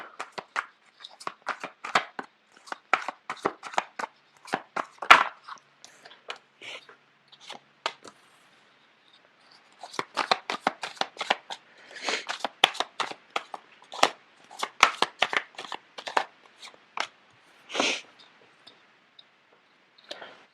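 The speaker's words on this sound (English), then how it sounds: "The cards are not shuffling too well." Crisp riffling and snapping of a deck of cards being shuffled, repeated in bursts with short pauses, close and fairly quiet with no talking.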